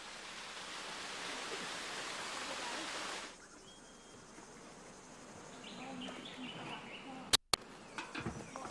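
A waterfall and a flowing creek after rain, a dense steady rush of water that sounds loud for the first three seconds, then drops to a softer continuous flow with a couple of sharp knocks near the end.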